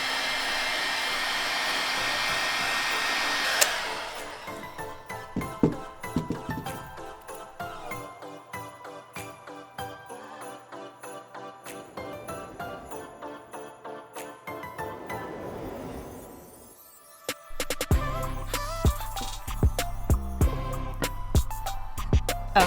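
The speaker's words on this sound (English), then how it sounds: "I would actually suggest to use a heat gun" A heat gun blows hot air over epoxy resin and tape in a craft pour project, a loud, steady whooshing roar that runs alone for a few seconds at the start before cutting off.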